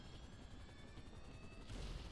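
Helicopter in the video game GTA 5 Online, a steady rotor and engine drone that swells louder near the end, with game gunfire and explosion noise mixed in.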